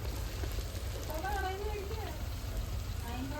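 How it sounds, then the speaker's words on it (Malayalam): Chicken frying gives off a continuous soft, faint sizzle that holds steady throughout, with a voice drifting over it. "അടിപൊളി ചിക്കൻ ഫ്രൈ."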